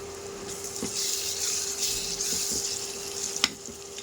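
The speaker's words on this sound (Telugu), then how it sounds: "ఇది ఉల్లిపాయ ముక్కలు అన్నది ఇంకా బాగా వేగిపోవాలి" Chopped onion and crushed garlic fry with raw prawns in a pan, a steady bright sizzle running throughout with a couple of soft knocks and one sharp clink near the end.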